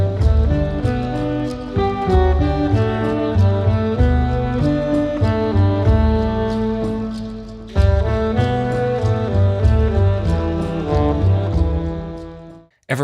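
A jazz band plays relaxed, campfire-style acoustic music in a forest setting, with strummed chords and a steady beat that pauses briefly midway and then carries on to a fade, with no talking.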